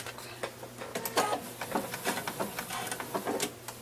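Electric sewing machine stitching through a blanket's binding, a fast mechanical run of needle strokes with rhythmic ticking and whirring, close and fairly steady, with brief pauses and no talk.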